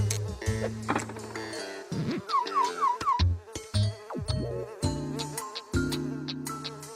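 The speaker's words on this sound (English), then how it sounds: "because we can hear them. Like I know there are bees" A high, whiny insect buzz drones over bright electronic tones and swooping notes, sounding stylized and close rather than natural.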